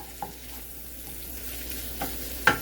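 Hot dog chili sizzles in a pan while being stirred, a continuous frying hiss with a couple of scraping utensil clicks near the end, close and without speech.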